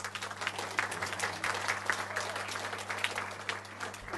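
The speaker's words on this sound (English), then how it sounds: "Applause." An audience at a youth disability conference applauds, a dense patter of many hands clapping steadily throughout, moderately loud with a faint low hum beneath.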